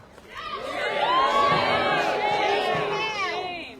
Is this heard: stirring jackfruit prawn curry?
no